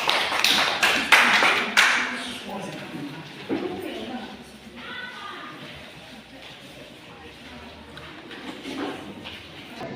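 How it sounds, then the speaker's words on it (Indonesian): Audience applause for a student group after a classroom math presentation: a burst of clapping in the first two seconds fades into quieter room noise and faint voices. "Tepuk tangan untuk kelompok 2."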